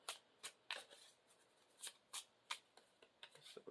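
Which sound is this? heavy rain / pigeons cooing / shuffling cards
shuffling cards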